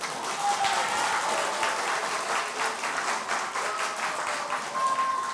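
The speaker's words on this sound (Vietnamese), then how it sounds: "những tràng pháo tay của các bạn cổ động viên cũng đã cho chúng ta biết được người chiến thắng" Supporters in the audience of a Vietnamese quiz show give sustained, even applause, a dense roomful of clapping that holds steady for several seconds without voices.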